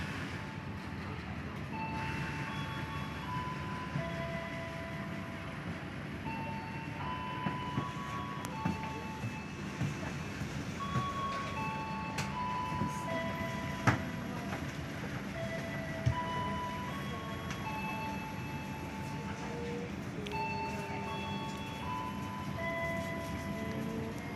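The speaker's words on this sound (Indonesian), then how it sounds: "Ada kereta melintas langsung." A stainless steel Walahar local train on the Cikarang–Purwakarta line rolls past at a distance, a steady rumbling clatter of wheels on rails with occasional metallic squeals and clanks, no voices.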